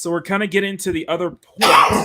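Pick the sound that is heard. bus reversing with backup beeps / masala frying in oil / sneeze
sneeze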